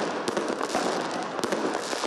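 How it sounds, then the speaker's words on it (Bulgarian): New Year fireworks burst over Varna as a dense, continuous crackle, with sharper bangs and pops standing out at irregular intervals over a steady background roar. "Светлините от фойерверките създаваха празнично настроение."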